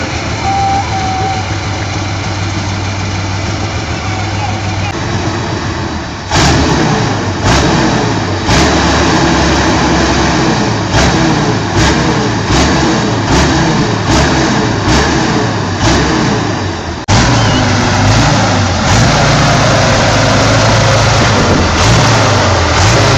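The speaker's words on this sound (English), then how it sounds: "the bike is propelled by a V12 engine that was removed from a Russian T-55 tank" A 5.5-metre, five-ton motorcycle powered by a V12 engine taken from a Russian T-55 tank, late 1960s, idles loudly and then revs repeatedly in heavy rhythmic bursts, close and dominant throughout.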